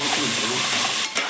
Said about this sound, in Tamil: காய்கறி நல்லா எண்ணெயில் வதங்கணும், அப்போ தான் நல்லா இருக்குங்க